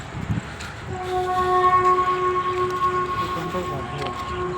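A train passes at a moderate distance, with a steady rumble and sustained horn-like tones that swell and then fade, while voices murmur in the background.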